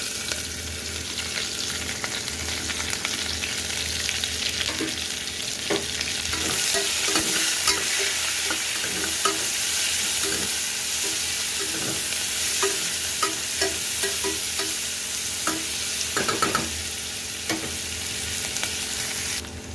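Sliced onions and green chilies fry steadily in hot oil while preparing an egg biryani, a continuous bright sizzle with scattered stirring clinks and spatula scrapes, close and loud, without any talking.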